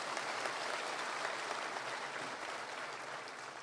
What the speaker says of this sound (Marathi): अशा टाळ्या वाजवा ना